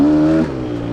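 A Gas Gas 300 dirt bike engine holds a loud, close, steady tone that drops slightly in pitch midway, a short burst of throttle without any talking.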